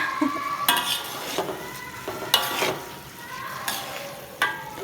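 Rice being stirred into sautéed sambal tumis paste in a pot for nasi lemak, with repeated scraping, stirring strokes and a low sizzle close by, no talking.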